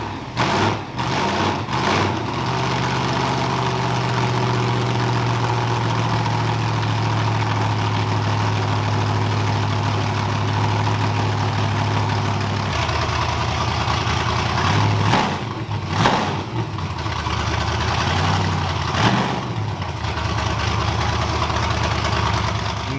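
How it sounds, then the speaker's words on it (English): A loud car engine idles with a deep, lumpy rumble, dropping off midway before revving briefly again. "hearing Lonnie's car run was insane too"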